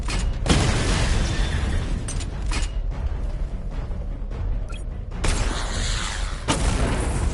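The Batmobile fires a missile barrage in Batman Arkham Knight, a string of loud booming explosions and heavy mechanical bursts that rise and fall across the clip, with a sharp blast near the start and another surge later on.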